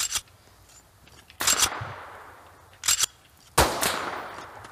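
Video game gunfire during a raid: four separate sharp shots spaced a second or so apart, each cracking loudly and trailing off into a fading echo, with no talking.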